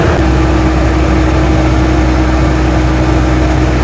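A three-wheeler car's engine drones loud and steady while cruising at speed on Welsh roads. The low hum continues unbroken with no voices.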